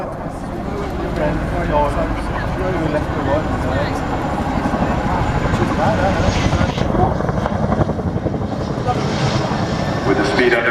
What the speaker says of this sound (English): As the aircraft repositions